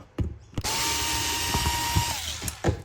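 Torx screws come out of a Dyson V10/V11 vacuum head with a T8 Torx screwdriver: close mechanical whirring and grinding with a steady tone, broken by sharp clicks and knocks at the start and end.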